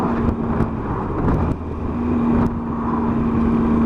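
Engine of a 2018 Triumph Tiger 800 XRT motorcycle in sport mode while riding, a steady droning hum under continuous wind rush, swelling slightly as the throttle opens.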